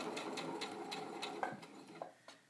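Sewing machine stitching down folded bias tape along the side of a fabric face mask, a steady rapid mechanical whir with regular needle pulses that slows and stops near the end, close and alone.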